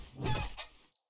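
A chicken in the game 7 Days to Die gives a short squawking cluck, close and fairly quiet, a single honk-like call that fades quickly into silence.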